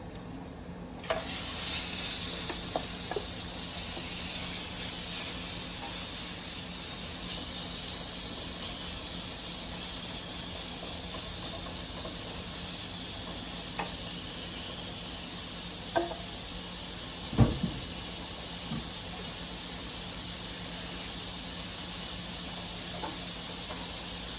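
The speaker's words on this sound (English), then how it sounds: "So we're just gonna cook the shrimp in the meantime." Shrimp sizzling in a hot pan while a Cajun dinner of dirty rice, shrimp and fried wings is cooked, giving a steady broadband fry hiss throughout with a few faint clinks and stirring knocks.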